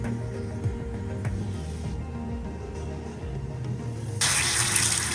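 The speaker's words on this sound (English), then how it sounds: "dumping cold water into that hot crucible" Cold water dumped into a hot crucible just after gold refining, with a steady rush of pouring and splashing that turns into a loud, bright hiss near the end.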